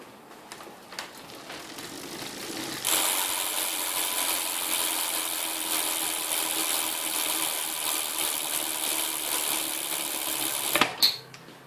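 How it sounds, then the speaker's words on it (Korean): The freewheel ratchet of a folding mini velo bicycle hub buzzes as a rapid, continuous clicking for about eight seconds indoors, close and fairly loud, starting abruptly and stopping with a couple of sharp clicks. "자, 라쳇 소리가 이 정도입니다."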